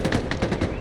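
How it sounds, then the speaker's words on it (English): A quick burst of machine gun fire in an Xbox video game, several rapid, evenly spaced shots in under a second, close and loud with no talk over it. "I dumped a full mag into him and he's still standing there"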